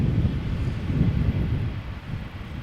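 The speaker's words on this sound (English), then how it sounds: "A321 British Airways," A British Airways Airbus A321 arriving at Amsterdam Schiphol, a broad steady roar of jet engine noise mixed with wind buffeting, continuous and fairly loud throughout.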